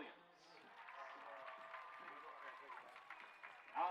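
An audience applauds at a high school homecoming event, a steady wash of clapping and crowd noise lasting several seconds, heard from a distance and fairly faint.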